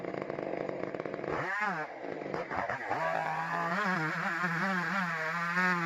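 Chainsaw felling a giant tree, its engine droning loud and close, dipping and then revving back up to a sustained high whine as the cut goes on.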